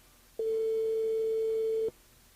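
A telephone line rings during a live radio call-in show: one steady electronic tone lasts about a second and a half and is heard alone over faint background hiss.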